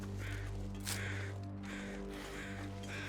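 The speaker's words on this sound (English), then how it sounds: "Sunrise. We're starting to hear crows." In The Long Dark video game at sunrise, crows let out a series of harsh caws in spaced bursts over a steady low wind-like hum, with no voices.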